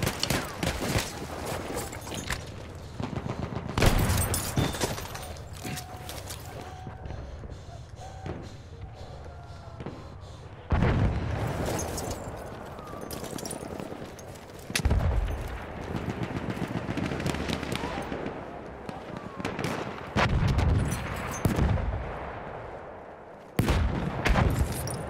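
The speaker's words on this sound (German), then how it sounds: "Maschinengewehr, eindeutig feindlich!" Battlefield 1 combat in the Argonne forest, with bursts of machine gun fire and heavy thuds and blasts recurring over about 25 seconds, near and loud in places, amid general battle noise.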